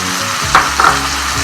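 Washed dried shrimp fry in a pan for a snake gourd thoran, producing a loud, close, continuous sizzle with a couple of brief stirring flares and no talking.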